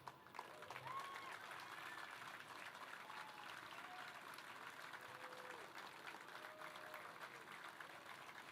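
An audience at the Menifee State of the City Address 2023 claps in a steady, sustained round of applause that fills the hall evenly throughout, heard at a distance and fairly quiet.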